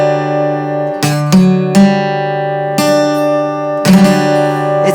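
A keyboard chord voiced with the third and fourth side by side sounds dissonant. It is struck repeatedly, with notes added and re-attacked about every second over five seconds, close and loud, with no voices.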